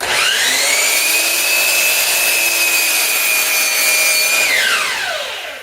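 Wood is being planed during a kitchen cabinet install: a loud, steady motor whine holds for about four seconds and then winds down, close by and with no one talking.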